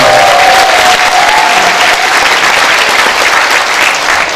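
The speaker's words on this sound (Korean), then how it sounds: "격려의 박수를 한번 보내주시면 감사하겠습니다." Loud, steady applause from a crowd at a Bareunmirae Party leadership election convention, many hands clapping close and continuously for a few seconds without a break.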